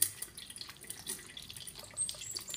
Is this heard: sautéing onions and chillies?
no